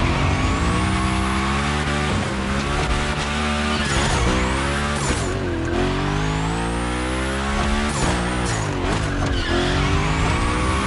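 Hoonigan car drifting in The Crew Motorfest racing game, with loud continuous tire squeal and engine revving sweeping up and down in pitch, dense and close throughout with no talk.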